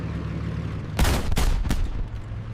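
An M18 Hellcat tank destroyer gun fires in a brief, loud burst of booming blasts that roll off over about a second, with a lower rumble continuing beneath.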